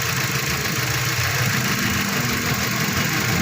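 A Mazda 3 with a random multiple-cylinder misfire idles steadily nearby, a continuous rough engine drone with an uneven, stumbling undertone and no talking.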